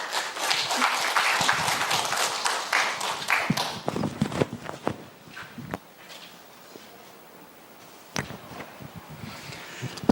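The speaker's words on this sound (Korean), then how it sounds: "박수로 맞이해 주시기 바랍니다" An audience at a Buddhist seminar welcoming a speaker with applause, a dense burst of clapping that thins out into scattered claps toward the end.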